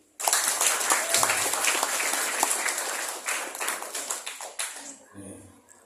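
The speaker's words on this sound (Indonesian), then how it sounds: "Kita tepuk tangan dulu" Audience applause at a Balinese Hindu dharma discussion gathering, dense clapping starting abruptly and holding steady before breaking into scattered claps and fading, with a brief voice near the end.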